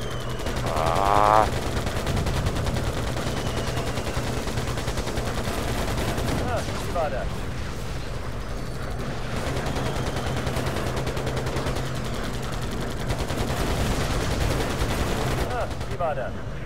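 Aircraft machine guns fire in the WWII Pacific flight game Air Conflicts Pacific Carriers: rapid sustained bursts with an engine drone under them, loud and steady across the whole stretch, with short breaks between bursts.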